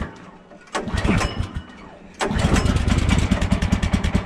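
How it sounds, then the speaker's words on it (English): A Woodland Mills portable sawmill's small gas engine gets cold pull-starts after sitting in sub-zero weather, with a couple of sputtering pulls and then the engine catching and running with a rough, pulsing, loud idle close by. "All right, let's see how it starts. Cold start, hasn't started in a while."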